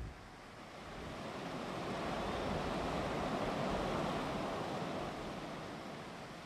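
Colorado River rapids rushing through Cataract Canyon: a continuous broad roar of churning whitewater, steady and fairly distant, swelling slightly in the middle.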